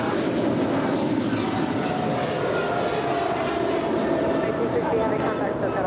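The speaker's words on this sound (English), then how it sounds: "this is the Coletta Air 777 in the DHL livery heading to Cincinnati, rolling down 25 left" Kalitta Air Boeing 777 freighter in DHL livery rolls down runway 25 left at LAX for takeoff, a dense, constant jet roar with a faint thin whine on top and faint voices beneath it.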